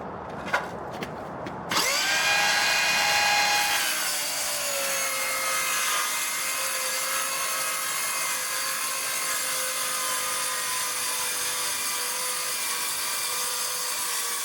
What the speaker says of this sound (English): See how many cuts we can get in this 1 inch thick particle board